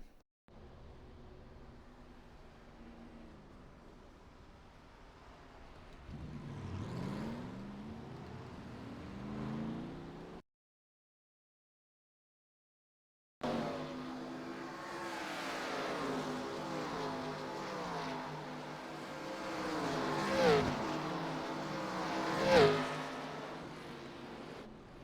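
Race car engines on track in the iRacing NASCAR game at The Rock in a 1987 K5 Championship round with a crowded field. Engines drone and rise and fall in pitch as cars pass, with a silent gap midway and louder passes near the end.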